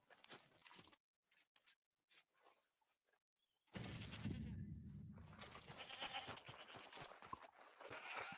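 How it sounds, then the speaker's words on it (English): A goat bleats in a video game after the player kills it. The bleat is faint and comes out of quiet, before a sudden loud rush of game noise takes over. "I just killed a dude's goat and took off running right past him."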